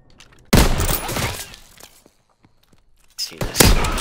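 Sniper rifles fire in Call of Duty: WWII, two loud, sharp shots about three seconds apart, each trailing off in echoing clatter and rumble, with a near-silent gap between them.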